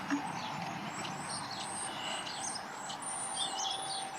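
Faint high bird chirps repeat in short bursts over a steady background hum of distant traffic.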